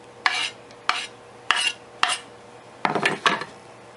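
Squash, onions and pork belly mixed in a bowl, six sharp scraping strokes of a utensil against the bowl at an uneven rhythm, close and clear, with no talk.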